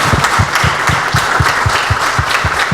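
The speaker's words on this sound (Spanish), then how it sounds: "¿Por qué no dan un aplauso a todos los que están aquí?" A Sunday church congregation applauding, loud sustained clapping from many hands with a steady rhythmic pulse of synchronized claps running through it.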